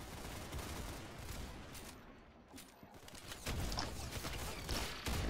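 Sustained gunfire rattles through a video game firefight, dense bursts of shots continuing steadily at moderate loudness with a brief dip before picking up again.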